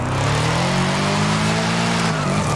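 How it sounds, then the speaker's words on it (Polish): A Lexus LC 500 drifting in Forza Horizon 5, its engine holding a loud, sustained high-revving note with tire squeal layered over it, close and continuous. "Podoba mi się to driftowanie obecnie."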